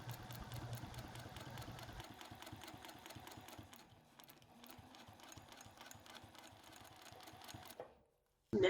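A sewing machine stitches free motion quilting on a whole cloth quilt, rapid steady needle chatter running in bursts with a short slowdown midway, then stopping near the end.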